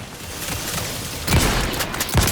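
Gunfire in The Outer Worlds 2 video game, a dense rumbling barrage with two heavier booming bursts standing out above continuous combat noise.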